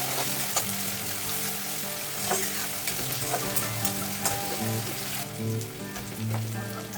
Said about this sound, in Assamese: পিঁয়াজখিনি অকণমান ৰঙচুৱাকৈ মই ভাজি ল'ম